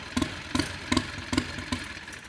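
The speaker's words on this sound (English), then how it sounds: "There is no reason a lawnmower engine should sound that good" A turbocharged 670 V-twin lawnmower engine chugs at a steady idle, with evenly spaced low pulses about every few tenths of a second, loud and close.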